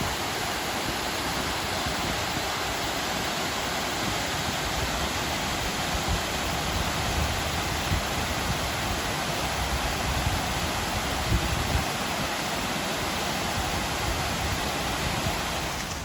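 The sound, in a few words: small waterfall cascade beside a path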